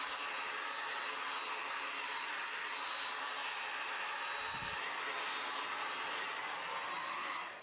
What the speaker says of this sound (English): I'm just going to run the blow dryer up and down the hair while I'm holding the ends to make sure it stays stretched.